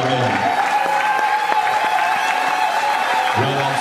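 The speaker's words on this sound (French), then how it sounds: "Acclame d'abord pour toi-même." A church congregation claps with dense, steady applause that fills the space, mixed with faint cheering, while a voice talks over part of it near the start and end.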